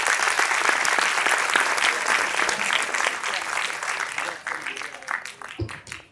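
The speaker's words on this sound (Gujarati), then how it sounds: "એકવાર જોરદાર તાળીઓ એમના માટે" Audience applause at a school annual day function, a loud sustained burst of many hands clapping that thins out toward the end.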